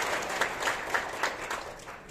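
An audience claps for a district official being introduced at a public ceremony, a steady moderate applause lasting a couple of seconds with a few sharper claps standing out.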